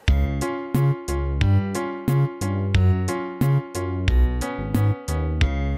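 A drum beat in 4/4 time programmed in LMMS, with punchy kick and snare hits and bright hi-hat ticks repeating in a steady, even pattern, loud and close with no talking over it.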